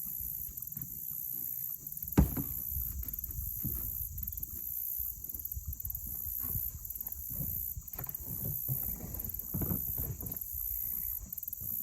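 A yellow kayak is paddled across water while towing a second kayak loaded with camp supplies. Steady sloshing and dipping sounds carry under constant wind buffeting the microphone, with one sharp knock early on.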